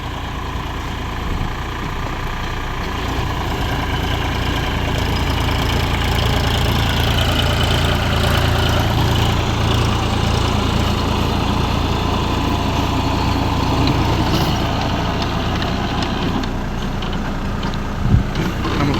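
An old tractor's engine idles steadily outdoors, a continuous low, even rumble that holds at a constant level for the whole stretch with no talk over it.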